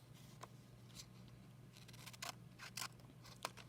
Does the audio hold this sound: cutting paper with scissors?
yes